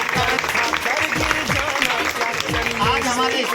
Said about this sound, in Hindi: चलो ताली बजाओ इनके लिए।